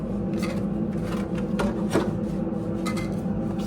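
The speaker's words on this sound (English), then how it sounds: "This side you're going to want to sand before you glue it in." Hand sanding of a wooden chest part, a steady close-up rasping and rubbing of abrasive on wood with continuous back-and-forth strokes, moderately loud and with no talking.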